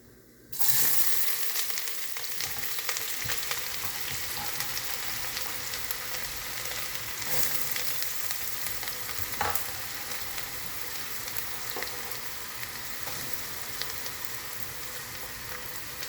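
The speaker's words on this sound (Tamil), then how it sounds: "இப்போ நாம் வெங்காயத்தை ஆட் பண்ணியாச்சு. இப்போ அது கொஞ்சம் வதங்கட்டும்." One chopped medium-sized onion sautéing in a pan, starting with a sudden loud sizzle as it hits the hot oil and then settling into a steady frying hiss with occasional scraping stirs, close up with no talking.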